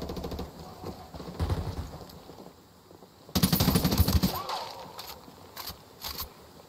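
Automatic gunfire in Ghost Recon Wildlands erupts in a loud, dense burst of rapid shots, with scattered lighter shots before and after it.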